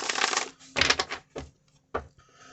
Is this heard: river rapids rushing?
no